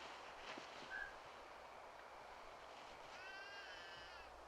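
A baby cries faintly in the 1971 film The Andromeda Strain, a thin wavering wail heard distantly over a quiet background hum, with one short cry near the start and a longer one toward the end.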